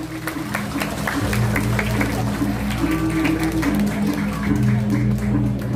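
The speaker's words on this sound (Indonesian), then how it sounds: "buah tepuk tangan dong buat Drama Gong" Audience applause for a Balinese Drama Gong performance at an outdoor arts festival, a steady dense patter of many hands clapping over a continuous hum and background crowd noise, no talking.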